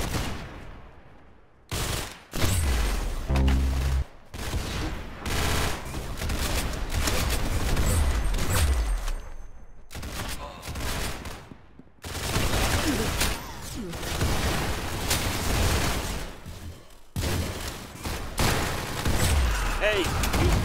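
Roblox Arsenal multiplayer match gunfire, rapid bursts and single shots in dense clusters broken by short silences, loud and close, with game sounds and a voice speaking at times.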